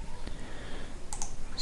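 A few soft, faint clicks from a computer keyboard being typed on come through low background noise, spaced irregularly with a quick pair near the end.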